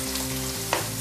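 About three onions fry in a pan for chicken bhuna, giving a steady close sizzle over a low hum, with one brief stir-like scrape partway through and no talking.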